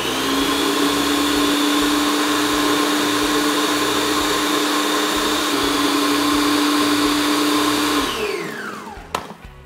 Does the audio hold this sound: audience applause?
no